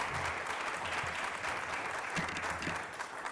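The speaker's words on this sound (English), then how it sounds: "Can we give our panelists a round of applause, please?" Sustained applause from a sizeable audience for a panel, dense clapping that holds steady and loud throughout without a break.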